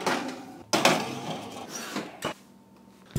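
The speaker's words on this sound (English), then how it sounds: "we're gonna throw them in the oven for 30 to 34 minutes" A tray of pumpkin cranberry scones goes into the oven with several close clunks and knocks of metal against the oven rack and door, spaced irregularly, with no talk.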